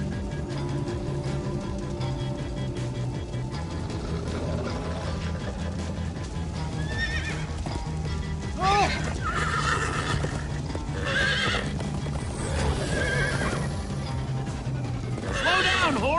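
Horses in the video game Minecraft Story Mode whinny repeatedly over clip-clopping hooves and a continuous game music bed, with loud neighs clustered in the second half.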